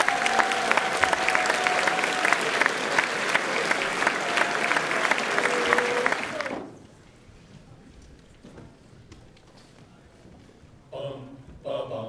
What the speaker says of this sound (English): So a huge round of applause and thank you